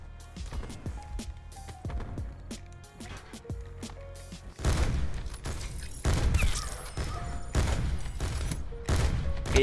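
Rapid bursts of gunfire crack and boom in a sniper lobby of a first-person shooter, with heavier, louder volleys building in the second half over scattered thumps and footsteps.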